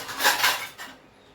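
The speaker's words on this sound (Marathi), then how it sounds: "आणि इथे ना आपण तवा ठेवूया मसाला भाजण्यासाठी." A flat iron tava set down on a gas stove burner gives a couple of close metallic clanks and scrapes in the first second, then fades to quiet kitchen room tone.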